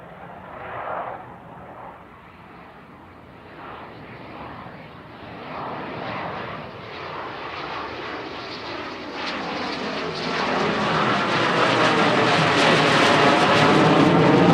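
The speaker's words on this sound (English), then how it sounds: "goes from low and slow to a full afterburner muscle climb" A fighter jet at an airshow pulls from low and slow into a full afterburner muscle climb, its engine roar building steadily from a moderate rumble to a loud, broad sustained blast.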